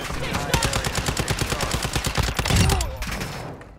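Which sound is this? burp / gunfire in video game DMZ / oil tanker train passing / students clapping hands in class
gunfire in video game DMZ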